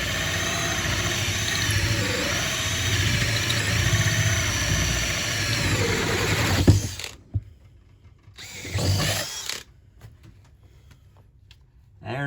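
A power drill cuts test holes through a 14-ft cargo trailer floor for a diesel heater install, a loud sustained whirring grind for several seconds, then cutting out into quieter short bursts and pauses.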